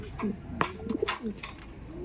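Soft, low cooing from birds close by, a few repeated calls mixed with brief chirps and light clatter, a voice talking intermittently.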